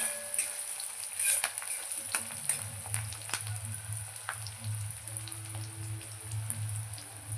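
Finely chopped green chillies frying in oil crackle and sizzle unevenly, with scattered sharp pops over a low continuous hiss, close by.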